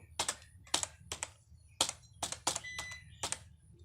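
Someone types HTML and CSS code on a computer keyboard, producing a series of close, crisp key clicks in an irregular rhythm with short pauses and no talk.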